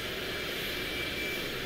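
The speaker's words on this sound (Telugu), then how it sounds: "మొత్తానికి వస్తుంది వస్తుంది, ఇంకో ఫ్లైట్ వస్తుంది." Airplane in Euro Truck Simulator 2 passing overhead, a steady, faint, broad engine roar holding evenly throughout with no talk.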